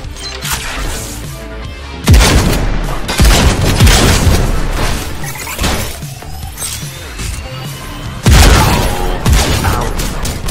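Shotguns boom in the VR robot-shooting game Robo Recall, with loud sudden blasts followed by crashing, shattering debris, a few heavy shots spaced several seconds apart over a continuous din.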